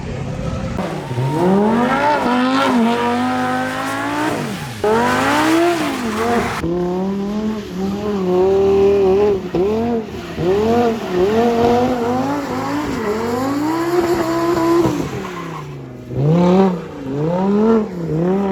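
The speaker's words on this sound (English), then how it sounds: "Drifting around a Lamborghini Huracan, that's insane." A Lamborghini Huracan drifting at a valley run motorsport event, with loud, close, continuous tire squeal sweeping up and down in pitch over a revving engine for the whole stretch.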